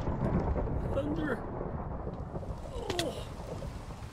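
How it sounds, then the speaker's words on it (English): Thunder rolling during a storm in the video game Minecraft, a low, sustained rumble with a brief louder crack partway through, mixed with other faint game sounds. "It finally started thundering."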